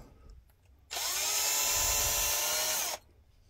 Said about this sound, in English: The wire twister with a quarter inch shank will fit in your drill.